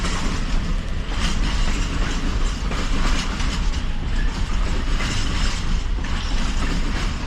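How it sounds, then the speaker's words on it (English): A freight container train in a video game rumbles steadily past at close range, a continuous roar of wheels and rail noise with faint clickety-clack, no voices. "so when the container train passed"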